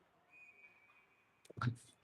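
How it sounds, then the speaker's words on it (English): Referee whistle during a 19U girls' hockey game, a faint, steady high-pitched tone lasting about a second, followed by a brief burst of nearby voice. "So we'll have a whistle"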